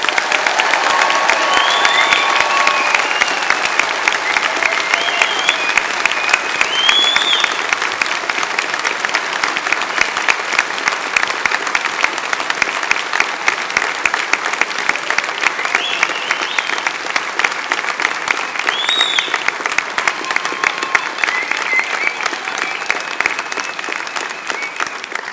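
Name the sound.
audience applause for graduates at a degree ceremony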